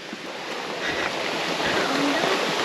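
Steady rushing of a waterfall in Tanay, Rizal, a broad continuous roar heard from nearby without pause.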